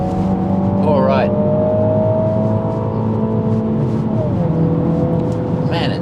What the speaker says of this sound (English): A synthetic sound for the exhaust.